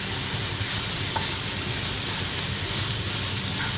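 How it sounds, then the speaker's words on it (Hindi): Chicken frying on a tawa gives a steady, dense sizzle that holds at the same level throughout and stays close, with no voices over it. "फ्राई होंगी चीज़ें"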